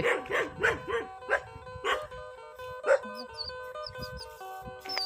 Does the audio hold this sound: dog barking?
yes